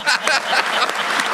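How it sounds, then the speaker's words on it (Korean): Dense broadband clapping from a Korean government meeting, steady and fairly loud throughout, with a few faint voices mixed in. "박수 한번 해야지"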